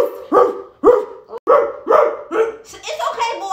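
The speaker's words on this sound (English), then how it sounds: "you got my dog barking" A dog barks in a string of sharp, loud, close barks about every half second, some rising into yips and whimpers, while people talk over it.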